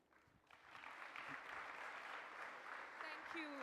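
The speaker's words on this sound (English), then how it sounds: "Let's give her another round of applause" Audience applause after a speech at a foundation event, a faint, even crowd clapping that rises and holds steady, with a brief voice near the end.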